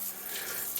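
A garden hose sprays a steady hiss of rinsing water over a car, close and continuous for a brief moment.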